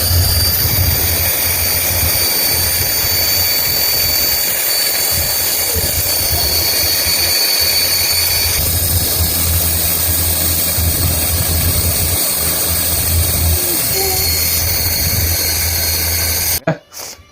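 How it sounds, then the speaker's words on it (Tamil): A small RC toy helicopter motor is switched on and spins in a loud, constant high whine with a buzzing drone. The sound holds steady for the whole stretch, then cuts off abruptly near the end. "இப்போ பார்த்தீங்கன்னா அப்படின்னா நம்ம வந்து ஹெலிகாப்டரை சுவிட்ச் ஆன் பண்ண போகிறோம்"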